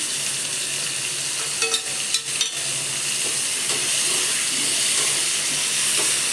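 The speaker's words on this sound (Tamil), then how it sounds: "இதை நல்லா வதக்கிக்கணும்" Chopped capsicum sautéing in a hot pan for a simple kootu, a steady loud sizzle with a few scrapes of stirring and no voices.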